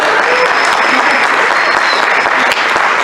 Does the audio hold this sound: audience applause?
yes